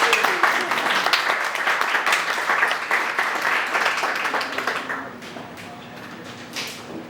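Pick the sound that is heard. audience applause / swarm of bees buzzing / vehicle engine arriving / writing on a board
audience applause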